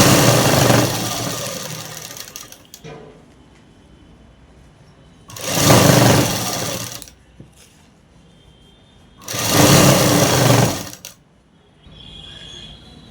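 A sewing machine runs in three separate loud, close bursts of stitching fabric, each lasting a second or two, with quiet pauses between them.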